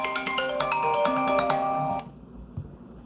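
A telephone ringtone chimes loudly during a live call-in show, a bright melodic ring that cuts off abruptly about two-thirds through, leaving only quiet room noise.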